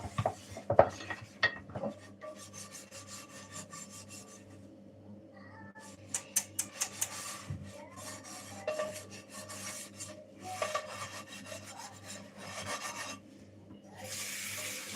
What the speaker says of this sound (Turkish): Bulaşık işte.